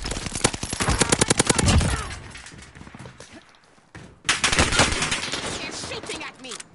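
Enemy automatic gunfire in a shooter video game, a rapid burst of loud shots followed by a short pause and another volley, with talking mixed in.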